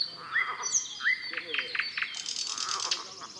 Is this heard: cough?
no